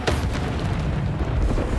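A Bombarda spell explodes in Hogwarts Legacy as a short, loud, low boom with a rumbling tail.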